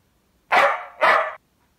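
A dog gives two short, loud barks close by in a home kitchen, evenly spaced and clear against a quiet background.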